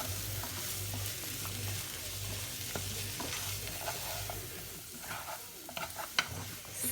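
Refried beans with added spice being stirred in a hot frying pan, a steady soft sizzle under scraping and stirring, with a low hum throughout and no talk.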